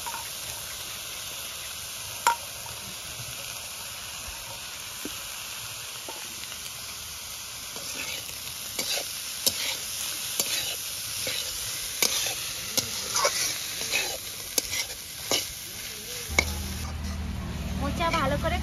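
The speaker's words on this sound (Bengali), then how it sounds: "মোচা ভালো করে কষিয়ে নেব।" Banana flower sizzles in a pan for a Bengali mochar dalna curry, with intermittent clicks and scrapes of stirring over a steady frying hiss, close by and fairly quiet.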